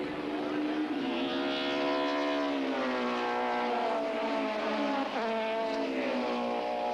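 Supertouring race cars, a Johnson Matthey BMW and a BP Nissan, race at Killarney circuit in 1993, engines droning loudly with shifting, rising pitch as they pass, a commentator's voice over the roar.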